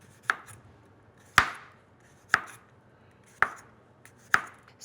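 A knife slices washed, skin-on potatoes very thin, giving five sharp, evenly spaced chops against a cutting board, close and crisp with quiet gaps between them.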